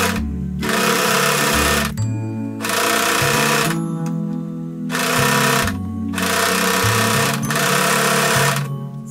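Domestic sewing machine stitching a fabric belt, running in loud sustained bursts of a few seconds each with brief pauses between, steady motor whir and rapid needle rhythm, close up and without talk.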